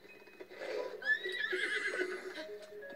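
Horse neighing and whinnying in the video game Breath of the Wild, a loud drawn-out call rising and falling over about two seconds, with soft hoof clops and game ambience underneath.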